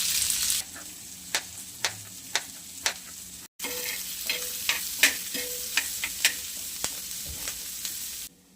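Sliced onion sizzles in hot oil in a home kitchen, a steady crackling hiss broken by a brief gap, with a spoon scraping and stirring the pan in sharp, regular clicks throughout.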